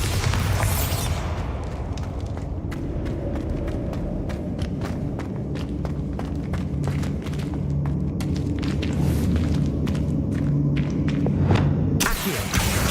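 A blasting-spell explosion in the Hogwarts Legacy video game, opening with a sharp blast and then continuing as a deep rumbling roar with scattered debris clatter and thuds and another burst near the end.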